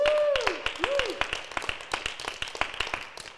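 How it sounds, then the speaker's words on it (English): A theatre audience at a startup pitch competition final claps, a thin scattered patter of individual claps that thickens into rhythmic applause, with a brief tonal sweep near the start. "Can we have a round of applause for them as well, please?"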